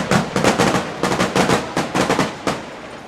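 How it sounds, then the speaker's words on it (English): Fireworks burst at a college football game, an NAIA home opener, in a loud, rapid barrage of sharp cracks and booms that fill the air continuously, with no voices audible. "The fireworks are loud."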